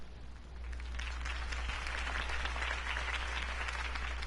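A crowd applauds after Harvey Dent's campaign speech in Batman: The Telltale Series, a steady, moderately distant wash of clapping that rises in and holds over a low constant hum.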